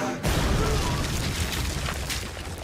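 A Zero cannon fires in the Bounty Rush video game as one loud booming blast. Its dense roar rises sharply and holds for a couple of seconds.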